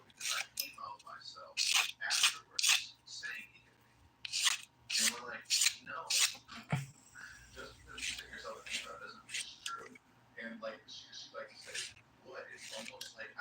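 Polygel nail extensions being filed with the 180 grit side of a nail file, short close rasping strokes in quick bursts with pauses, alongside faint soft voice sounds.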